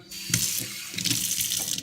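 Water runs from a tap into a mixing bowl of flatbread dough, a close, splashy gurgle in short uneven bursts lasting under two seconds.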